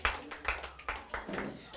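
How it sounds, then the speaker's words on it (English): An audience at a stage event for Bible story trivia claps in faint, evenly spaced bursts, mixed with voices. "Please clap for him."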